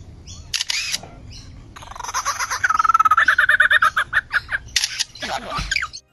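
An Australian lyrebird mimics a camera shutter, giving a fast run of mechanical clicks and whirring bursts mixed with whistled, chirping notes, close and fairly loud.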